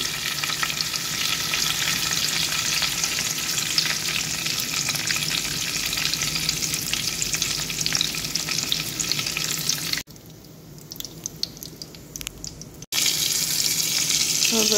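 Curry leaves frying with bitter gourd in a pan, a continuous bright sizzle with stirring scrapes that drops away briefly before returning at full strength, with no voices.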